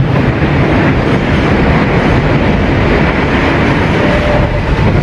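Purwojaya passenger train pulling into Haurgeulis station, a loud continuous rumble of wheels and carriages with steady rolling noise throughout and a faint squeal near the end, no voices.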